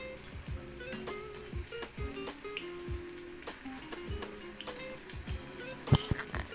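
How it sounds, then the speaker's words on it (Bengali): Coriander leaf pakoras fry in hot oil, a soft continuous sizzle and crackle with occasional sharper pops, fairly quiet and close. "পকোড়াগুলোকে খুব সুন্দর এপিট ওপিট করে ভেজে নিতে হবে"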